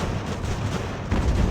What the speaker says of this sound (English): Artillery piece has done a great job.